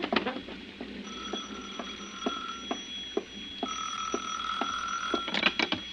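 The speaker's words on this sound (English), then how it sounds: "It was 5 minutes to 6 when the phone rang again." An old-fashioned telephone bell rings in bursts in a radio drama, with tones sustained over a regular ticking patter that stays clear and close, then ends in a cluster of sharp clicks.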